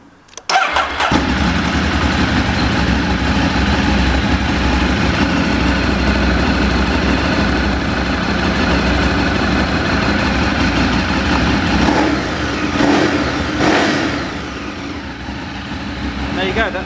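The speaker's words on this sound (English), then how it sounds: "that's basically what a Ducati 848 with standard pipe sounds like" A Ducati 848 motorcycle with its standard exhaust cranks and fires up, then settles into a loud, lumpy idle with a few throttle blips near the end, heard up close and alone.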